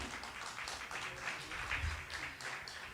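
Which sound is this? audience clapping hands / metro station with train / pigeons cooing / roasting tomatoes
audience clapping hands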